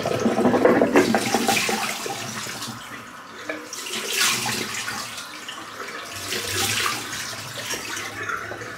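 Running water splashes and gushes as a razor with a Feather blade is rinsed under a tap, the flow surging and easing in uneven waves, close and fairly loud with no talking.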